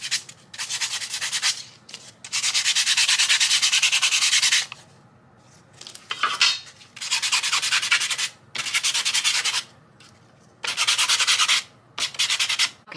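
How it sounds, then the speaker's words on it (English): Sandpaper rubbing back and forth over a painted Dollar Tree sign, long loud scratchy strokes in repeated bursts separated by brief pauses, close up and alone. "I'm just going to try to sand it a little bit"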